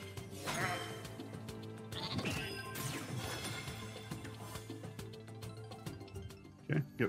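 Goat bleats ring out over busy electronic music and jingles during a slots video game bonus round, with dense overlapping game effects throughout.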